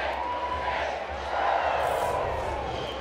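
A college baseball crowd at a Louisville versus Florida State game roars after a home run, a broad, steady wash of cheering with talk faintly underneath.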